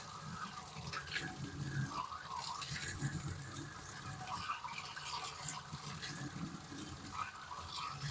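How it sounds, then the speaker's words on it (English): Tap water runs steadily to fill aquarium tanks in a home fish room. The flow is a continuous, even rushing and splashing close by, with no voices over it. "So I'm going to go start the water over here."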